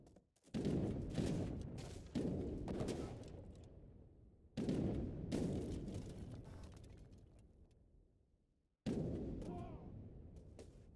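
Cannon fire in an Age of Empires 3 real-time strategy match: four loud booming blasts, each with a sharp onset that rings out and decays over a couple of seconds, with pauses between them.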